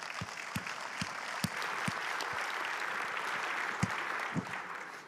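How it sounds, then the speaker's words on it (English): Audience applause for a speaker at a career talk, a crowd's continuous clapping with some louder individual claps standing out up close, fading slightly at the end. "Let's give him a big round of applause."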